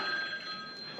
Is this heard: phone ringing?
yes